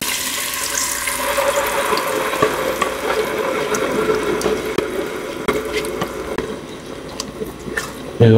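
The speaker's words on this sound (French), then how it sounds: "Ensuite, vous allez ajouter votre sauce tomate." Tomato sauce poured into hot olive oil and garlic in a saucepan gives a steady wet sizzle and bubbling hiss that runs throughout, close and fairly loud.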